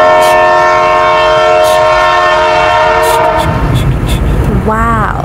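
A train blows a long, loud multi-tone horn that holds for several seconds, then gives way to rumbling rail noise and a rising whistle-like tone near the end.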